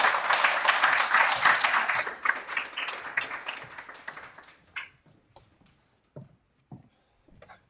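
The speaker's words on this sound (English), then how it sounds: "Applause, please" Audience at a Sheffield meetup clapping loudly for about four seconds, the dense applause then thinning into a few scattered late claps, near and clear.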